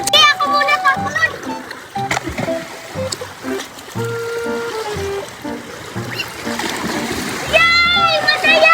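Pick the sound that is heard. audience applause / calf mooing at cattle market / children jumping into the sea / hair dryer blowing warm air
children jumping into the sea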